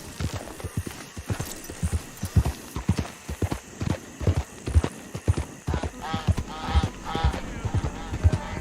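Horse hooves clip-clop at a steady trotting rhythm in the Red Dead Redemption 2 video game, loud and close, with a brief snort or whinny near the end and no talk.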